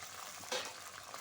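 Tomato puree stirred into a spice paste frying in a pan, a faint soft sizzle with one brief scrape of the spoon midway.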